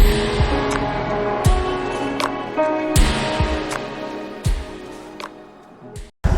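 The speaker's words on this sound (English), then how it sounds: "You rev this thing and it wants to send you into the bush." A BMW R18 motorcycle's big boxer engine is revved loudly up close, its deep throbbing idle broken by several sharp throttle blips.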